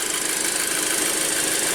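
An Audi A6 engine idling as it warms up, heard as a steady, close mechanical running with a fine rapid ticking rhythm and a broad hiss over it, with no talk.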